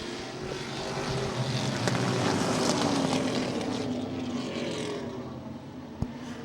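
Race cars accelerating around a racetrack on opening night, a continuous loud engine roar that swells and fades as the field passes, with broadband crowd and track noise and no clear talk.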